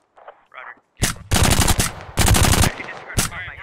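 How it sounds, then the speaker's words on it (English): Machine gun fire in an Arma military combat game, with several sharp, loud bursts of automatic rounds separated by short gaps, close by and heading a short stretch of faint voices. "Sunny deciding now is the time to shoot at Russians"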